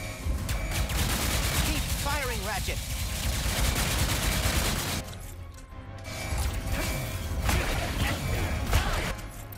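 Rapid bursts of sci-fi gunfire from the Ratchet and Clank Rift Apart video game, a dense, loud barrage with mechanical clatter and game effects that briefly drops away before resuming, with a voice talking over it.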